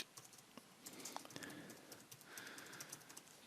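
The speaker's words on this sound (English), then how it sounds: "it's just a matter of typing your heading" Someone types on a computer keyboard, a quick patter of light clicks in short irregular bursts, quiet and close.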